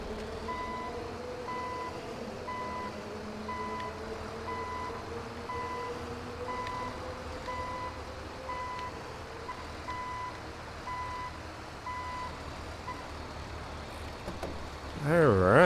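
A tow truck reverses in the GTA 5 video game, its backup alarm giving a steady train of evenly spaced beeps over a low engine drone, ending with a louder mechanical clatter.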